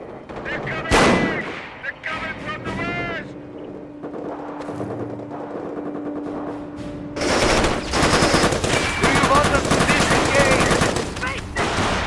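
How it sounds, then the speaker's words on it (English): Infantry gunfire in a World War II video game, with dense, loud bursts of rifle and machine-gun fire, a brief lull with a steady tone, then sustained heavy firing that fills the scene. "We're taking infantry fire!"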